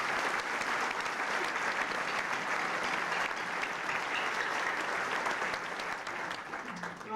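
Sustained, dense applause from a large banquet crowd at a scholar-athlete football dinner, steady and loud throughout with no break in the clapping.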